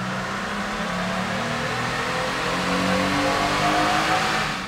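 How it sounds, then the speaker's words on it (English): A 2020 Jeep Gladiator Sport revs on a dyno in fourth gear: the engine note climbs steadily and grows slightly louder through the pull, a continuous close roar with no talking. "we tested this on our 2020 Gladiator Sport behind me on the dyno, and we ran it in fourth gear so we could rev it all the way out"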